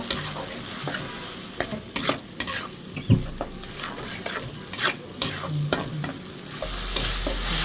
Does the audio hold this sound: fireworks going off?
no